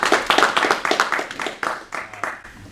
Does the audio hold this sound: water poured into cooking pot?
no